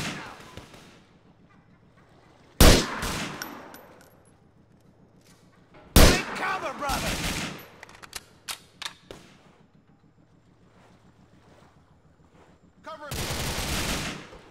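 Gunfire from the video game GTA IV: loud, sharp bursts of shots come in clusters, with a heavy blast near the start, a rapid rattling volley in the middle, and a final sustained burst, all over a low droning background.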